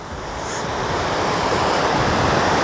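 Ocean surf rolls onto a beach during a morning horseback ride, a continuous, building wash of waves mixed with gusty wind noise on the microphone, with no voices.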